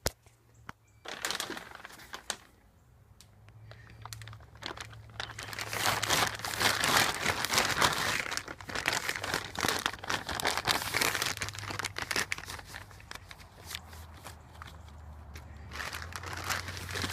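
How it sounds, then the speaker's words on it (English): Plastic packaging crinkles and crumples loudly around a new rear strut bar for a Datsun 280Z, in sustained bursts of rustling and tearing with a low hum underneath, no talk. "So let's pull it out of the package and check it out."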